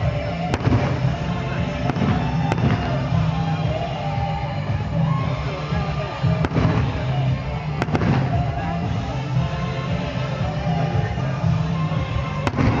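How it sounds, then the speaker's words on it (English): Fireworks burst outdoors with sharp cracks and bangs at irregular intervals over a constant rumbling background, with faint crowd noise and cheering in the distance. "Sparkles after the firework is off."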